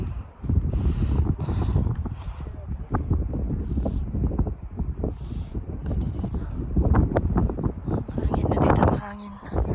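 Wind gusts across a rocky hiking trail in Table Rock State Park, a continuous buffeting rush against the microphone with people talking over it.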